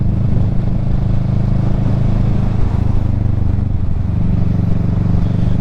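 A Kawasaki Ninja 650 exhaust gives a steady, mild low rumble at fairly low revs, constant and close, with no talk over it.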